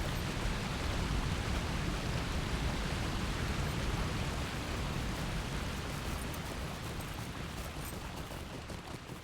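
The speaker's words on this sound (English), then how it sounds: "Very noisy, that waterfall." Steady roaring rush of a waterfall in a Lord of the Rings style video game, loud and continuous broadband noise that fades slightly toward the end, with no voices.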